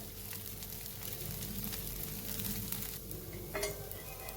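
Oil sizzles steadily around a coconut dosa on a hot griddle pan, a continuous close crackling hiss with a brief sharper flare near the end.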